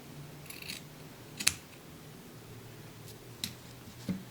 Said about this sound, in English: So for the feet, I'm going to cut 2 rectangles that are about the same size.